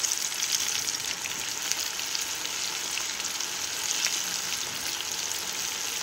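Chicken tenders, coated KFC-style, fry in well-heated oil with a steady, close, crackling sizzle that holds evenly throughout, with no talking.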